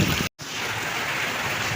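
Heavy rain pours during Cyclone Fengal as a steady, dense hiss, broken by one brief dropout near the start, with no voices.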